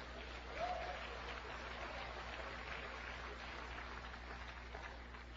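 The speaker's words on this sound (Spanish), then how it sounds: "Denle palmas al Señor Jesucristo." A church congregation applauds during a sermon, a faint, steady patter of clapping over a low room hum, with no voices.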